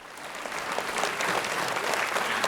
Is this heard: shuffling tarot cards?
no